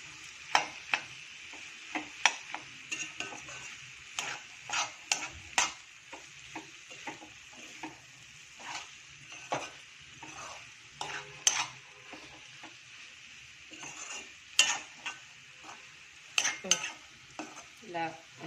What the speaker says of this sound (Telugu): రెడ్ చిల్లీ పౌడర్, బాగా ఇలా కలుపుకోవాలి.